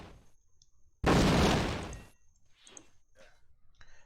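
Delayed spark explosions in the game Might and Magic VII: one loud, dense burst that decays over about a second, then a few softer pops and crackles with faint bell-like tones, no talking.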